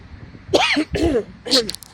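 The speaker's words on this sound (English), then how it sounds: "Let me clear my throat." A person clears their throat three times in quick succession, close and fairly loud, with short raspy bursts separated by brief pauses.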